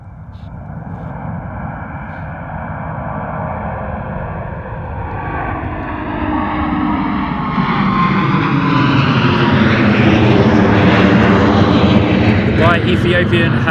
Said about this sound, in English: A350-900 Nifty 50 Ethiopian in the Star Alliance livery.